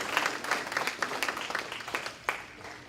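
Audience applause at a banquet, a steady wash of many hands clapping in a large room, moderately distant and continuous for a few seconds, with no voices on top.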